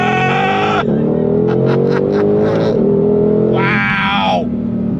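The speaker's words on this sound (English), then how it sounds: "First gear, on throttle!" An S550 Ford Shelby GT500 in manual shift and track mode accelerates hard from first gear. The engine wails loudly and rises in pitch, with the note dropping at each upshift before it climbs again, heard close and continuous.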